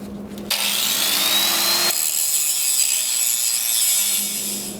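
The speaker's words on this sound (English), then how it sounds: "Now, just grind that away a little bit." An angle grinder bears down on a freshly welded metal bracket for a slack adjuster, a loud, close, continuous whine with a shifting pitch as the disc loads and eases against the steel.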